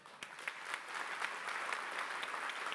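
Audience at a science expo talk on alien life applauding speaker William Baines, crowd clapping that swells from a few early claps into a steady, dense ovation, somewhat distant, with no talking.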